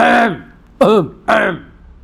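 Someone clears their throat three times in quick succession, close and loud, with short pauses between each rasping burst.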